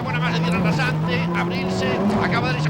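A 2002 Ford rally car racing on a stage of Rally Australia, its engine droning at high revs with shifting pitch, heard under a commentator's voice.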